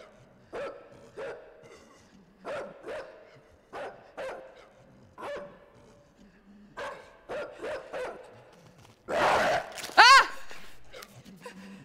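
Dogs barking in the side-scrolling game Inside: a run of sharp barks spaced irregularly, then a louder burst of overlapping yelps and whines near the end, heard fairly close with no one speaking.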